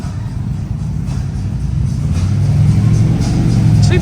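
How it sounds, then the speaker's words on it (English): A motorcycle on an all-female group ride in Mississippi rumbles past, a loud, steady low engine drone that builds slightly in intensity toward the end. "Look at her riding that bike."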